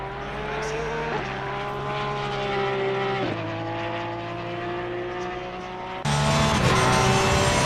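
A Porsche race car in ACC at Imola howls through steady engine drones, with pitch drops at gear changes around one and three seconds, then a sharper, louder surge near the end; no talk.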